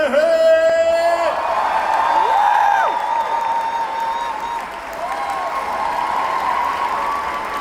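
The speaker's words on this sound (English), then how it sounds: "give him a round of applause and a warm welcome" A comic convention crowd applauds and cheers as a celebrity guest is welcomed onstage, with loud sustained clapping, whoops and a swelling tone from the hall, plus a brief musical sting at the opening.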